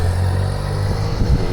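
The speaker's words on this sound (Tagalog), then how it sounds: "Harley Davidson, guys." A Harley-Davidson big bike engine idles close by at an outdoor gathering, giving a steady, loud low rumble with a slight lumpy pulse and a small rise near the end, with no talking.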